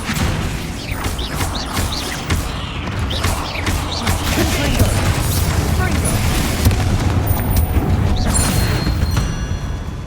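A Bombarda spell explodes in Hogwarts Legacy inside a tomb, a dense rumbling boom amid a continuous wash of loud crashing debris and game noise that lasts throughout.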